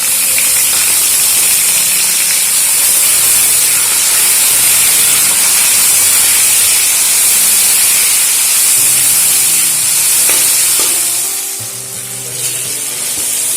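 Slit green chillies and chopped tomatoes hit hot oil in a pot for khichuri, giving a loud, close, continuous sizzle and spitting hiss that eases near the end.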